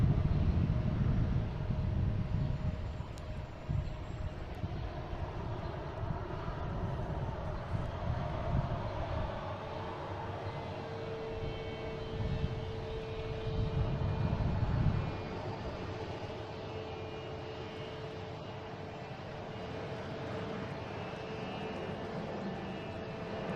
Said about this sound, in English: There's American 737-800 heading to Chicago.